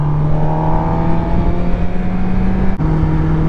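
Cars in road traffic rumble in a loud, steady engine drone with a low hum throughout, heard close up from a motorbike with a brief dropout near the end.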